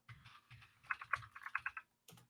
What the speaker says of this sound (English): You're not listening to the typing in the back.